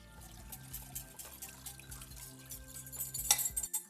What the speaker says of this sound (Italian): successivamente versiamo il composto sopra il pesce